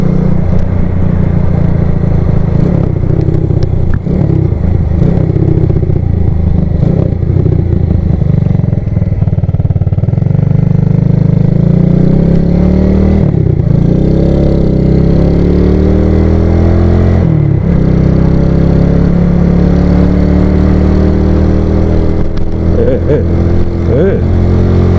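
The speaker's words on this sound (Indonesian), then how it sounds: "Cuma bunyi carburetor tu, bunyi angin carburetor lah." A motorcycle engine running with an open carburetor and no airbox, giving a loud, close, continuous drone with audible intake whoosh and shifting pitch as it revs and settles while riding.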